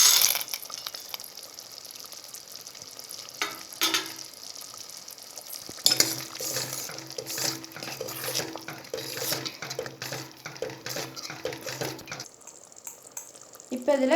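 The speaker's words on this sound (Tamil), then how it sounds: "இப்போ ஃப்ரை பண்ணி வச்சுருக்க சுண்டைக்காய் வத்தல் இதில் ஆட் பண்ணிக்கலாம்." Fried dried turkey berries go into a simmering tamarind kuzhambu and get stirred, with scraping and clinking of a spoon against the pot over a soft bubbling sizzle, louder in the middle stretch.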